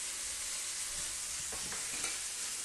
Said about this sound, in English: Got a puree here, just give it a nice mix.